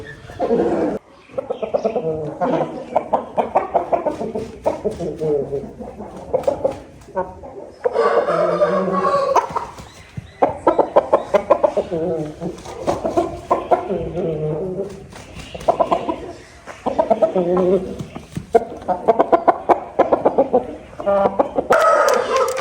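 A rooster clucks and crows repeatedly at close range over about twenty seconds, in bursts with short pauses, with someone talking at times alongside.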